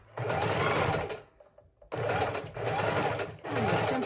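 A sewing machine runs a wide, long zigzag stitch down junk journal pages to attach pockets, whirring steadily and close in two bursts separated by a short pause, with no talking.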